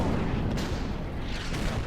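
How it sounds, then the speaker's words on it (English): Artillery barrage in a WWII strategy game set on Saipan, heavy rumbling booms rolling continuously and loudly with no pauses, dense low thunder filling the whole stretch without voices. "Lots of artillery."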